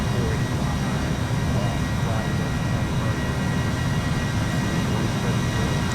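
Airbus A320 engines on takeoff in Microsoft Flight Simulator 2020, departing Manhattan on autopilot: a steady, loud, broadband jet roar with a deep low rumble that holds unbroken throughout.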